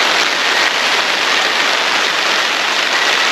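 Heavy rain pours down on a camping tent during a solo trip, a dense, loud, unbroken hiss of drops that stays steady from start to end, with no voices.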